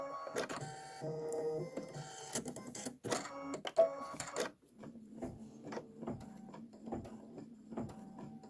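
An embroidery machine stitches a design in silver metallic thread, first in a dense rapid chatter, then in a steadier rhythmic stitching pattern with repeating thumps, heard up close with no talk.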